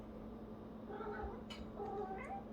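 A cat meows softly a few times indoors, faint and somewhat distant, over a steady low hum.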